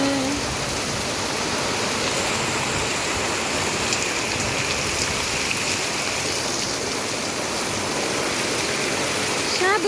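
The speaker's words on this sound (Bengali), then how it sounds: "একদম অনেক জোরে বৃষ্টি হচ্ছে" Heavy rain pours steadily, a dense, loud hiss of water filling the scene without pause.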